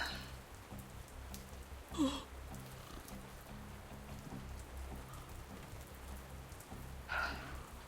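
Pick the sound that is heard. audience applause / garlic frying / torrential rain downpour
torrential rain downpour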